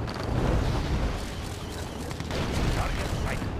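Missile launches and explosions in the Red Alert 2 strategy game, a dense, rumbling barrage of booms and blasts layered together at steady loudness, with clipped unit voice lines mixed in.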